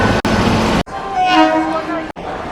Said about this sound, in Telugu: ఏదో ట్రైన్ వస్తుందండి